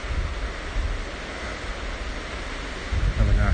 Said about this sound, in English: It's not really a waterfall, this is called a weir.